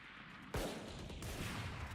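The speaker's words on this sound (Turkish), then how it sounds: "Sıktım yemin ediyorum sıktım adama." A single sharp gunshot from the video game Valorant cracks out over a low background hiss, followed by a short fading tail, with no talking.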